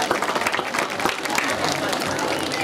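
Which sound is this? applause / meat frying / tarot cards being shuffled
applause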